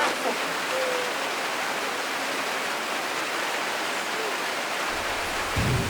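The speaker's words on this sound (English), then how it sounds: "it's raining here in northern Laos" Steady rain falling in northern Laos, heard from under a small roadside rain shelter, a dense even hiss that continues without a break.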